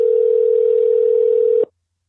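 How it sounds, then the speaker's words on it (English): A steady telephone tone sounds loud and unbroken for about one and a half seconds, then cuts off abruptly into silence. "Maxwell, call my phone again."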